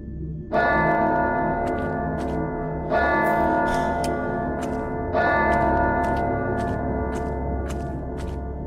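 Church bells toll in a graveyard within the horror game MADiSON, three loud reverberant peals struck at intervals, each ringing on with long echoing decay and no voices over them.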